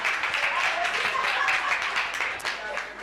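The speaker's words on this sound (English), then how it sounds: "Give Mulema a round of applause, guys." An audience at a global citizen networking summit claps steadily for a participant, a dense continuous patter with some voices mixed in.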